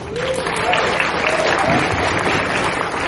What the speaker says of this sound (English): So a huge round of applause for the artists.